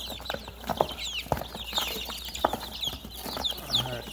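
Young broiler and layer chicks, two to three weeks old, crowded in a brooder box, giving a steady mix of high peeping and soft clucking calls throughout, close by, with occasional louder chirps.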